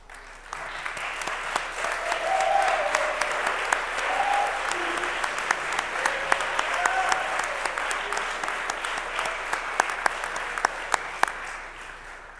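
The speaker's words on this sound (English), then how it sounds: "will you please stand so we can give you a round of applause?" At an athletics hall of fame induction ceremony, an audience gives a sustained round of applause, a dense, even wash of clapping with a few louder claps standing out over murmured voices.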